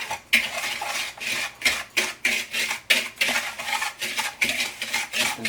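Banana nut bread batter stirred in a bowl, a spoon scraping and clinking against the sides in a quick, regular rhythm of about two strokes per second, close and clear with no voices.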